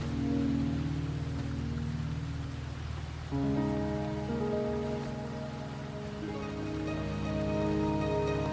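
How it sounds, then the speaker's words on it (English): Steady rain falls in the video game Wuthering Waves, a soft continuous patter running alone for several seconds beneath low sustained ambient music tones. "Are you trapped here by the rain?"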